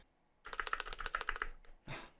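A quick run of clicky keystrokes on a Wooting 60HE keyboard, fairly close but quiet, followed by a single heavier thock after a short pause.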